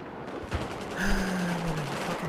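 Battlefield 4 multiplayer gunfire, a couple of sharp shots near the start followed by a sustained tonal whine and battle noise, moderately loud and fairly close.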